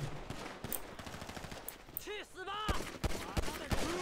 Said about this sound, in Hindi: तुम खाओ गोलियां भाई खाओ गोली